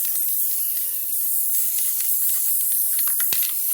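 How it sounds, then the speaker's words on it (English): Spray glue hisses from an aerosol can onto layered fabric for a table runner, a loud continuous spray with a few short bursts near the end, no talk. "Hit it with some spray glue."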